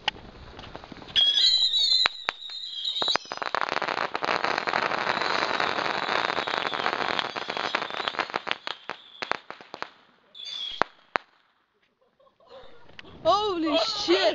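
Rapid crackling of about 1000 firecrackers and bursting fireworks pops in dense volleys, then thins out; a few whistling small rockets and sharp bangs follow near the end, with excited Dutch-speaking voices.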